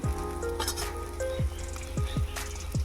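Ground tur (pigeon pea) beans roasting in oil for a Marathi turi dal bhaji, a steady close sizzle with a few soft stirring scrapes over it and no talk.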